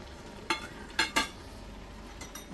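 Asafoetida and mustard seeds sizzle in oil inside a steel pressure cooker, a soft steady crackle punctuated by a few sharp pops or clinks of a spoon against metal.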